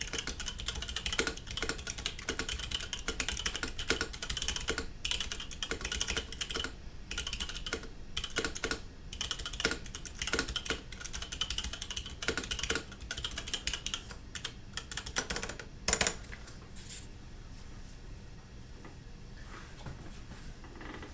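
Zealios mechanical keyboard switches on a carbon fiber keyboard, typed steadily in a fast run of crisp, close clacks that thin out toward the end, with no talking.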